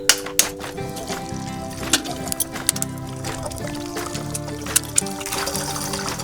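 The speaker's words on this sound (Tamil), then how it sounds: "நாலு முட்டையை உடச்சி ஊற்றணும்." Four eggs are cracked and poured into hot oil for fried rice, with a couple of sharp cracks at the start, then a liquid pour and soft sizzling beneath occasional clinks.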